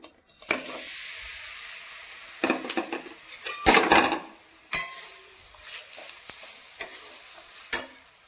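Jaggery melting in ghee in a kadai while puran is being made: a steady close sizzle, broken by several louder scraping strokes of a spoon against the pan.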